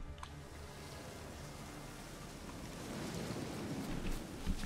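Steady rain hisses in The Witcher 3 as a storm sets in, a broad wash of noise that slowly swells louder toward the end, with a faint low rumble hinting at thunder underneath.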